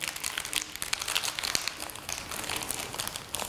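Thin plastic bag of small parts for a Stirling engine kit crinkles and rustles continuously as it is worked open, close and fairly quiet, with no talking.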